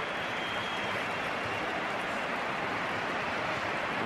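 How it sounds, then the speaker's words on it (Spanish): A stadium crowd at the Bernabéu applauds David Beckham during a Real Madrid versus Real Zaragoza league match, a steady, broad wash of clapping and crowd roar filling the whole stretch evenly. "Aplauso de David Beckham al Bernabéu"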